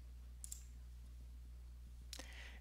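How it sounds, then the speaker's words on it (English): Two faint, sharp mouse clicks on a continue button during an online ITIN W-7 application, one early and one near the end, with a quiet hum between them. "And we're going to click continue."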